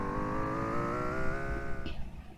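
Car engines in a battle royale video game drone and rise steadily in pitch as the vehicles drive together, loud and continuous, before the engine tone drops away abruptly near the end.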